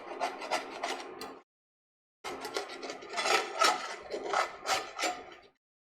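Cooked bits being scraped off the bottom of a pan while making cioppino-style risotto: close, steady rasping and rubbing strokes in two bursts separated by a short pause, with no voices.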